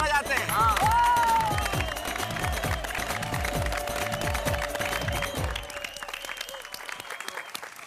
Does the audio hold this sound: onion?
no